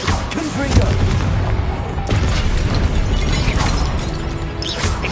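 A fiery blast from the Confringo spell in Hogwarts Legacy on PS5, part of a dense, continuous run of booming magical combat impacts at steady loudness across the whole stretch.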